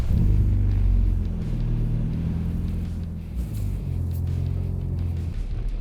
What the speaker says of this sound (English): That's a pretty thunderous roar of an exhaust, like coming out of that tiny engine.